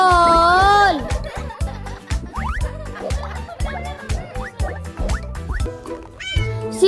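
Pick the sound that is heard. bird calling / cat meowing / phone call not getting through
cat meowing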